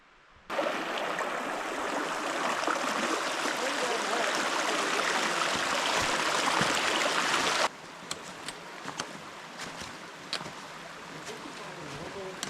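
A stream flows over a creek bed in the Cranberry Wilderness of West Virginia, a steady close rush of water that stops abruptly partway through, leaving faint outdoor ambience with a few light knocks.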